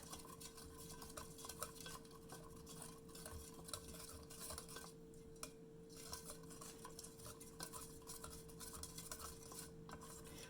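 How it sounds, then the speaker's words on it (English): A small whisk stirs sugar into a liquid garlic marinade for air fryer Asian chicken bites, making a continuous rapid clinking and swishing against the bowl, faint and even throughout with no talk. "And then got my little whisk here. I'm just going to mix it up here."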